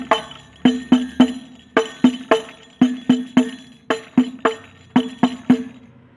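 Hadroh frame drums play a basic key-one beat, sharp slaps in quick repeating groups of three, clear and close with a steady rhythm and no voices.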